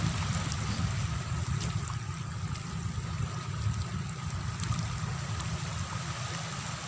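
Sea water washes in at a shore in a steady, loud, continuous rush with low rumbling surge, heard close and alone without any talking.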